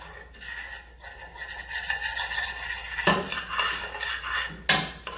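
A utensil scrapes and rasps across the bottom of a pan of white sauce, a steady close scratching that grows louder and busier partway through, ending with a sharp metallic knock.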